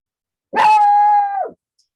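One drawn-out canine howl or whine rises sharply, holds a steady pitch for about a second, then drops away, loud and close against silence with no other sound around it.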